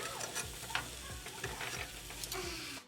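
Tomatillos, a serrano, a jalapeño and a little onion cook on a comal over medium heat, giving a steady close sizzle with repeated scraping and stirring strokes and light taps for about three seconds, then cutting off.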